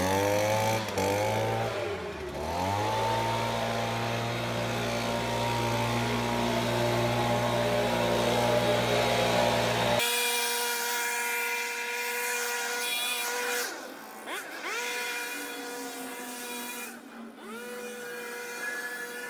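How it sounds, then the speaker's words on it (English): A lawn blower running while clearing a lawn in Sydney in summer, a loud, steady whine that changes pitch as it is swung about, then drops to a thinner, more distant drone partway through. "The next step that we start with is the blowing."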